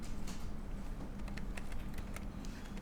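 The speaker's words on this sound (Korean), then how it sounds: "그 다음에 키보드의 델 키를 누르시면 지워집니다." Keys tapped on a computer keyboard while deleting in SketchUp drawing software, a handful of light, close clicks spaced irregularly over a steady background hum.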